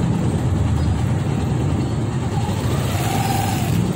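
Cars and engines crawling in a morning traffic jam toward a market, a dense low engine rumble up close with a brief higher tone rising midway through.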